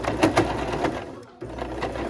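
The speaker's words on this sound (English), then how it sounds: "my sewing machine does not like going over thick seams like that" A home sewing machine stitches over thick fabric seams, its needle thumping rapidly up close, briefly stalling into near silence before running again.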